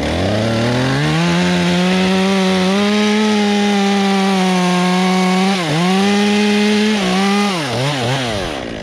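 A chainsaw making a back cut on a tree roars loudly and close, holding a steady high engine whine that dips and surges as the chain bogs into the wood, then revs back up near the end.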